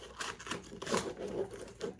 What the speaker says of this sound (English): This is 2 decks in one, so excuse me if my shuffling is not the greatest